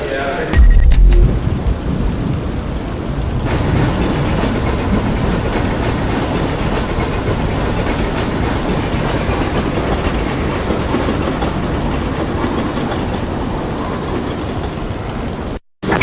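Cutscene train in Project IGI arriving at a rail yard, a continuous loud rumble and clatter of wheels that runs steadily throughout. Voices speak over the noise.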